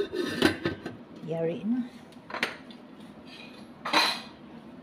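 Metal lid clinks and rattles on a pot of fish tinola with malunggay in a home kitchen, with a few sharp clanks and scrapes under a person speaking.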